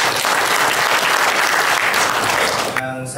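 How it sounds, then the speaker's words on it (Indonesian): An audience at a coalition party coordination meeting in Cilacap gives loud, dense applause that runs steadily for almost three seconds, then breaks off as a voice begins speaking over a hall echo. "Kita kasih tepuk tangan yang meriah."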